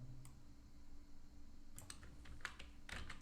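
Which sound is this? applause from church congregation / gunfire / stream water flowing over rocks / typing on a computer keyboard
typing on a computer keyboard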